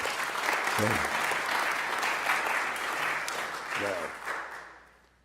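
Sustained applause from an audience at a synagogue's annual meeting, steady clapping with brief voices breaking through before it fades out at the end.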